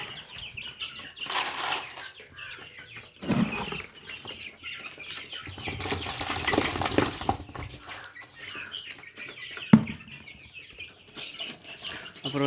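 Chickens and growing chicks cluck softly at feeding while wings flap in several brief bursts, with scattered peeps and rustling nearby.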